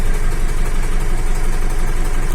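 A GAZ 3309 truck diesel engine running at a steady idle, a loud, dense, even rumble with a fast regular pulse throughout, close by and with no talking.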